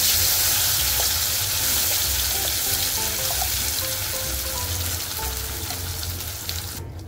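Ground green masala paste drops into hot oil with crushed garlic for a Malvani surmai fish curry, giving a loud, continuous close-up sizzle that gradually softens toward the end, with no talking.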